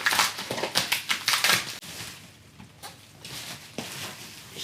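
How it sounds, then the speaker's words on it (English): Plastic wrapping is crinkled and torn off an Evolve Bamboo GT electric skateboard with ABEC 11 97mm wheels. Dense, close bursts of crackling give way to softer, sparser rustles and a few sharp crinkles. "let's unwrap the sucker now completely"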